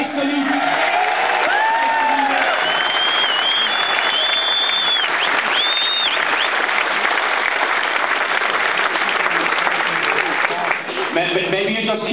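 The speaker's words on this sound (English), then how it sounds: "Maybe you just keep your applause to the end so I don't cut into other people's time" A rally crowd at a Dublin protest against the household tax applauds and cheers steadily, with whoops and whistles rising above continuous clapping throughout.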